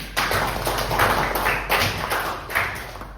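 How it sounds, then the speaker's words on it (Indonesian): A class of students clapping hands together in a classroom, several rhythmic bursts of group claps in a patterned beat, fairly close and loud, with no speech over them. "Siap, tepuk tangan dulu dong."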